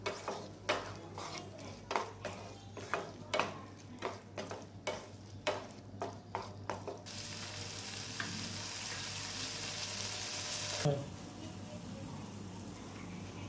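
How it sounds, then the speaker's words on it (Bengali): Mixed vegetables being stirred with spice paste in a pan, giving a run of regular scraping strokes under a steady sizzle, then a continuous louder frying hiss that cuts off abruptly near the end. "এবারে আমি সবজিগুলোকে মশলার সঙ্গে মিশিয়ে নিচ্ছি"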